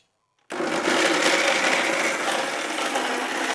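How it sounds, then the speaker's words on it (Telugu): A mixer grinder blending a milk and honey milkshake starts abruptly and runs steadily for about three seconds, a loud continuous whirring blend with no voices, then stops. "హనీ అండ్ ఆల్సో పాలు చూస్తారు కదా, మిక్సీ పట్టాలి కదా మొత్తం"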